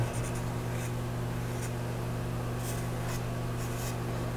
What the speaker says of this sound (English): so I'm going to just draw some circles around there